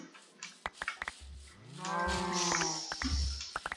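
Cows moo in the Minecraft video game: one long, drawn-out, rising moo stands out clearly, with sharp clicking taps before and after it.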